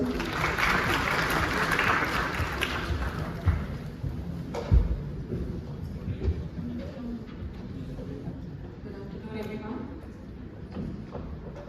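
Applause for a presenter at a medical university research conference in Russia, moderate clapping under a room ambience with some voices and a few thumps, fading toward the end.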